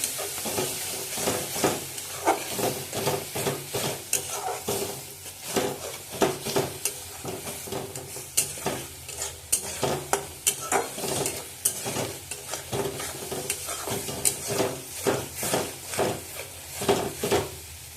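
Spices for chicken kasha sautéing in a pan, with a sizzling bed of frying and repeated scraping stir strokes of a utensil at an uneven rhythm, close and alone.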